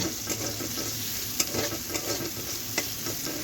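Onions frying in a pan for a tomato mash dish, with a steady close sizzle running throughout and a handful of sharp scrapes and clicks from stirring breaking through it.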